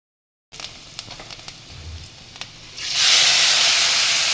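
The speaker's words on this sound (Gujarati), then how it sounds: "તો રીંગણા એની માટે શેકવા મૂકી દીધા છે" Eggplants roasting directly over a gas burner flame: faint crackles at first, then a loud, steady hiss and sizzle swells up and holds to the end.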